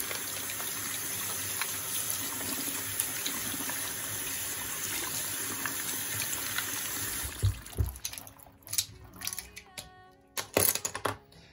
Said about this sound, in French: moi je mouille mes pinceaux, je ne les laisse pas tremper